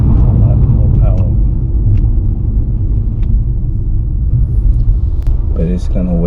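A modified car accelerating hard in sport mode makes a loud, deep engine rumble that holds steady from the cabin, while people talk over it.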